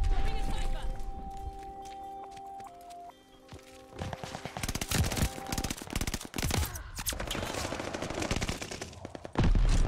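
Gunfire in Call of Duty: Vanguard, bursts of rapid shots and scattered single cracks in a busy match, loud and close, with footsteps and game sounds around them.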